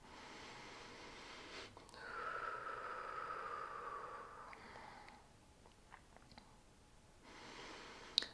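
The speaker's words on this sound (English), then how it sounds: "Let's take a deep breath together." One slow, deep breath is drawn in through the nose and then let out softly, close and quiet in a still room.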